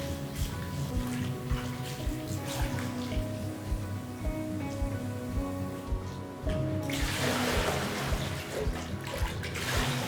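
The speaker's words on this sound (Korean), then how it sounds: "건질 때 물에 한 번씩 더 헹궈서" Soaked cucumbers for Korean oiji pickles are rinsed in water, with steady trickling and dribbling that turns into louder, closer splashing for the last few seconds.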